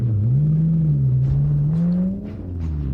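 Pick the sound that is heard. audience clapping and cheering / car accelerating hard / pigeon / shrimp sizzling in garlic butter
car accelerating hard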